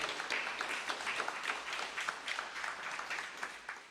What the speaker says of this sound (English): Give Carl a big round of applause